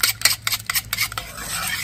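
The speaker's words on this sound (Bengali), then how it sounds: "তেল আর ডিমটা কিন্তু খুব ভালোভাবে ফেটে নিতে হবে।" Oil and eggs beaten together in a large bowl for a vanilla sponge cake batter: rapid, uneven clicking strokes of a utensil against the bowl, close and alone, settling into a steadier swish.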